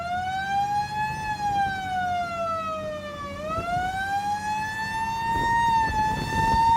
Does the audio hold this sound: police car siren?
yes